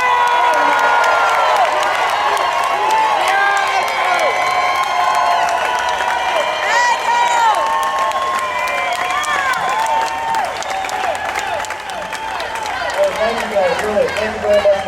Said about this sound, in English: give a huge round of applause, to Mr. Joe Wurzelbacher.